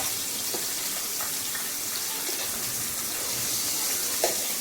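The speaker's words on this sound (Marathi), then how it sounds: "सर्व मासे अशा प्रकारे आपण फ्राय करून घेऊया" Rohu fish pieces frying in a pan, a steady soft sizzle with faint crackles throughout, no talking.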